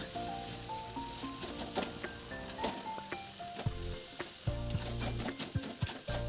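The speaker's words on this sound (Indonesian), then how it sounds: "lalu kita masukkan kering kentang tadi dan kacang tanah goreng, kemudian diaduk cepat supaya semua bumbu tercampur rata" Potato crisps and fried peanuts are stirred into a thickened spice paste in a frying pan, with a steady sizzle under repeated scraping and clattering strokes of a spatula, close and fairly quiet.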